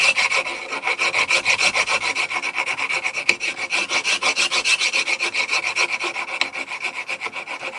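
A hand file rasps back and forth across natural stone while a toggle-switch cover is squared and shaped, in steady rhythmic strokes, close and clear with no talking.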